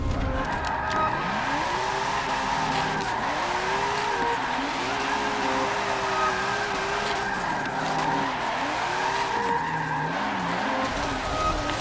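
A drift car in Forza Motorsport 7 slides through corners with long, wavering tire squeals over a constant engine roar, the screech rising and falling repeatedly across the whole stretch.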